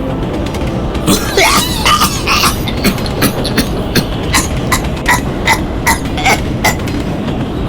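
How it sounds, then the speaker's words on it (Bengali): A man coughs repeatedly while riding a passenger train in a radio drama, sharp bursts spaced through the clip over a steady rumbling rattle of rail carriages. "কাশির শব্দ শুনে তার উল্টো দিকে বসা লোকটির দিকে তাকাল"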